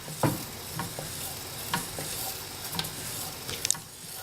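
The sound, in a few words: stirring chocolate melting for chocolate mousse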